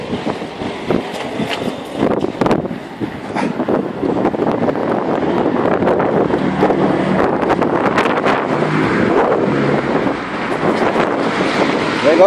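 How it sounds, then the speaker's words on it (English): Strong wind buffets the microphone continuously in wet, misty weather, a loud rough roar with gusty swells and crackling, and no clear voices over it. "The shit weather we got. It's windy."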